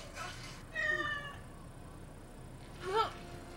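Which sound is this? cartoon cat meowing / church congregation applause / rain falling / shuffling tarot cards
cartoon cat meowing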